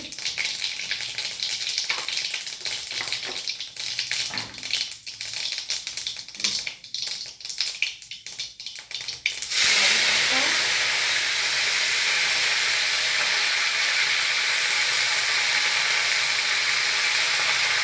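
Mustard seeds and cumin hit hot white oil in a wok while a rohu fish curry is cooked. Clattering and faint talk come first, then a loud, sustained hiss and sizzle takes over for the rest.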